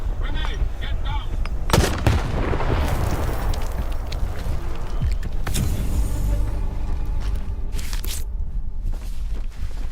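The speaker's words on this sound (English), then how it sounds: "grenade, get down." Grenade blasts and gunfire in S.T.A.L.K.E.R. 2: sharp, loud, close bangs and booms scattered over a constant roar of battle noise, with some voice-like sound mixed in.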